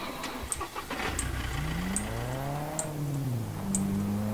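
A vehicle engine in the survival game SCUM turns over and settles into a steady mid-pitched hum that rises slightly in pitch, running alone and fairly close with sharp clicks above it.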